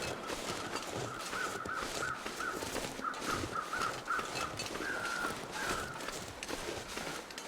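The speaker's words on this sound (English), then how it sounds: "hear crows." Crows cawing in the wilderness of the survival game The Long Dark, a series of harsh repeated calls at mid distance over a constant windy ambience.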